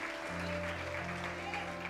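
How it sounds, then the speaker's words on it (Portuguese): A church congregation gives a brief round of applause during a worship service, soft, scattered clapping blended under sustained keyboard chords, with a voice faintly present. "Da un aplauso a Jesús"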